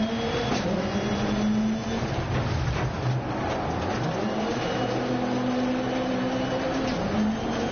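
A rallycross car in the Dirt Rally 2.0 racing game drives with its engine droning continuously throughout, the pitch rising and falling as it revs and shifts, loud and steady with no talking.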